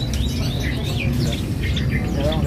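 A caged songbird at a bird shop kiosk chirps and whistles in quick, repeated phrases over a steady low rumble of market noise.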